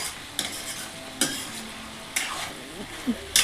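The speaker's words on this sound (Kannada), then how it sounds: "ಅದನ್ನು ಹಾಕಿ ಸಹ ನಾನು ಎಣ್ಣೆ ಮತ್ತು ಚಿಕನಲ್ಲಿ ಫ್ರೈ ಮಾಡ್ಕೊಳ್ತಾ ಇದ್ದೀನಿ." Chicken pieces stir-fried in oil with ginger garlic paste for a capsicum pepper chicken dish, a steady close sizzle punctuated by several sharp scrapes and clinks of a spoon against the pan, no talking.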